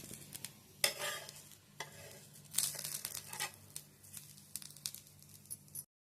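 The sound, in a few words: dosa cooking in a pan on low flame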